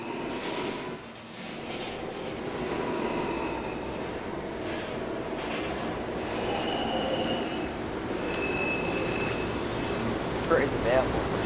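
A New York subway R160 E train in the Roblox game rumbles steadily along the track at Herald Square, with a low rolling drone, occasional squeals and faint electronic tones; an announcement voice may be faintly present.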